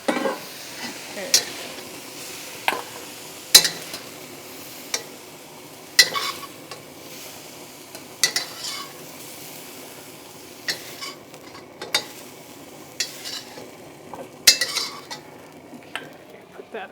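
Chicken cooks in an oiled pan with a soft background sizzle, broken by sharp utensil scrapes and clacks against the pan every second or two as it is stirred.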